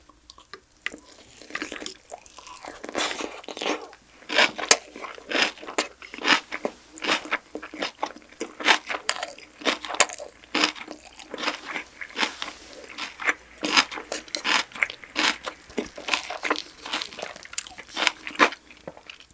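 Steady close-up crunching and chewing of giant crayfish at a mukbang meal, with a dense run of crisp bites and wet mouth sounds throughout and no talking.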